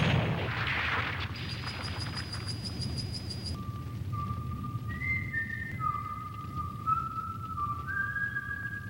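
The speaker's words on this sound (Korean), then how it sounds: "폐허의 건물 속 휘파람 소리." A person whistles a few short, wavering melodic notes inside a ruined building after a high tone sequence, heard faintly over a low, rumbling background.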